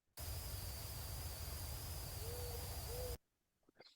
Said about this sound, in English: that's a powerful owl